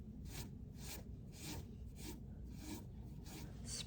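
A cloth rubs over milk paint and wax on a wooden surface, making soft, rhythmic swishing strokes about twice per second, quiet and close with no talking.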